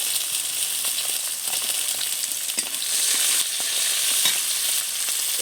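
Onions frying in hot oil with whole cumin seeds and dried chillies, a steady close sizzle and hiss with occasional stirring scrapes and no talk.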